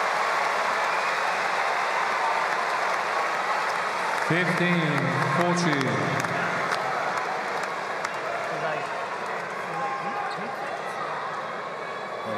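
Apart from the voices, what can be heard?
tennis crowd applauding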